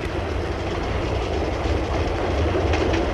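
A late-1950s Paris metro train rumbles along steadily with a continuous roar and faint rhythmic clatter of wheels on track, heard from inside or close by.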